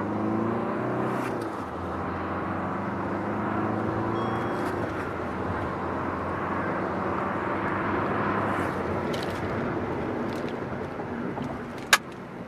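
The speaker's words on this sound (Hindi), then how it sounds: "तो चलिए अब करते हैं हम इस गाड़ी का परफॉर्मेंस टेस्ट, 0 to 100 ये गाड़ी कितनी जल्दी कवर करती है" Kia Sonet accelerating hard from standstill toward 100 km/h in a performance run, a steady engine drone with rising and shifting tones and a brief sharp click near the end.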